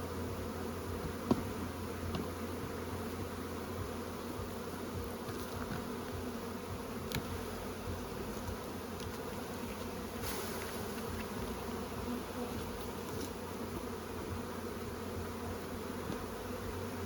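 Honey bees buzz around an open hive in Ontario, a dense, continuous drone that stays at an even level from start to finish, with occasional faint clicks and no voices.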